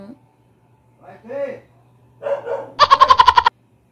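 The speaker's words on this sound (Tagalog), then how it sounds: "pagpasensyahan na po yung yung tahol ng aso" A dog barks in a quick run of sharp, loud yaps from somewhere near an upstairs bedroom, following brief stretches of a person speaking.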